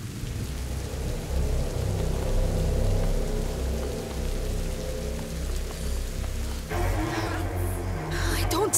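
Thunder rumbles beneath steady rain in a video game storm, a continuous low roar that swells near the end with sharper crackling and a bright hissing burst as the lightning bolt strikes.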